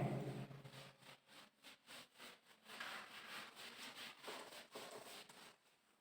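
Writing is wiped from a classroom board with soft, rhythmic rubbing strokes, about a dozen quiet back-and-forth swipes that fade out at the end.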